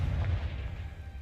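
A single deep, muffled blast from a Confringo blasting spell in a Hogwarts video game rumbles briefly and then fades into a low decay.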